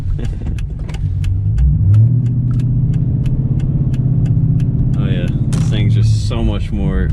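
A car engine with a modified aftermarket exhaust idles and rumbles loudly up close, a deep steady drone with brief revs, and someone speaks over it toward the end.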